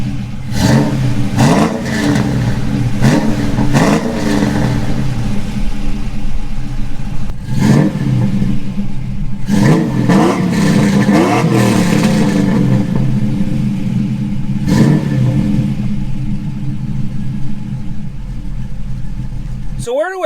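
Car fitted with aftermarket exhaust headers revving repeatedly on a windy outdoor test drive, a loud continuous low rumble with several rising throttle blips spaced through the stretch.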